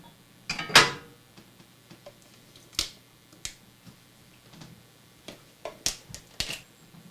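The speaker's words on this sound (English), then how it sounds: "we're just going to stir this together so we can mix it into the casserole pan" A spoon stirs mushrooms and sour cream together in a pan, giving sparse, light clinks and taps against the metal with quiet gaps in between. No one speaks.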